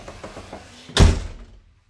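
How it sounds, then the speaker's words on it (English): Hotel room door at the Barcelo Maya Caribe opening with a keyless bracelet: a few soft clicks and taps from the lock, then one loud close thud of the door swinging, fading to quiet. "I use my bracelet that lets me in my door."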